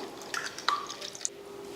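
Water is added to a spiced cooking mixture for tempering, heard as a few light, quick drips and small splashes over a quiet background.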